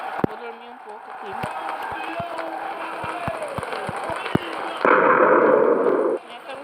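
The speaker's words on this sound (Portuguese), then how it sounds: "Minha cama explodiu." In Minecraft, a bed explodes in a sudden, loud burst of noise lasting about a second. It comes after a run of evenly spaced light clicks over a steady in-game background hum.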